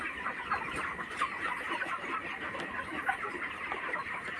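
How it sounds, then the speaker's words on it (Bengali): Chickens clucking and squawking in a dense, continuous chorus while being chased around a farm enclosure at night, steady and fairly close, with no speech. "ভাই ওদিকে মুরগিগুলোকে তাড়াচ্ছে"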